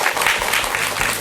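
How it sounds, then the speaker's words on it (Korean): A studio audience on a Buddhist television talk program gives a monk a short round of applause, a brief, steady wash of many hands that is already in full swing and continues throughout. "여러분 스님께 큰 박수 부탁드립니다."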